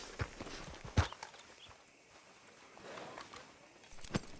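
Horse hooves clip-clop in Red Dead Redemption 2, a few scattered, fairly faint hoof strikes over quiet ambience, with one sharper knock near the start and another toward the end.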